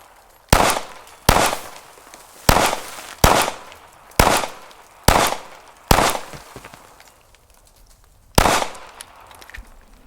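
A Springfield Armory Hellcat OSP pistol fires full metal jacket rounds in seven loud, close, evenly spaced shots, then an eighth after a short pause, each crack followed by a brief echo.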